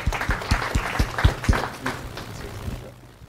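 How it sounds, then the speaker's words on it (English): Audience at a blockchain hardware talk giving a round of applause, a handful of distinct loud claps in a loose rhythm that thin out and fade, with voices mixed in. "Round of applause for Mike."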